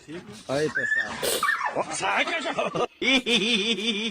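A dog whimpers and yips in a short social media reel, its high wavering whines overlapping with people talking and laughing throughout.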